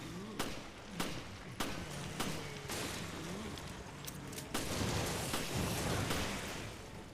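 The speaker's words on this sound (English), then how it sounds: "shooting." Gunshots ring out in the survival horror video game Resident Evil Revelations, a handful of sharp, spaced bangs over a low game ambience, fairly loud and up front.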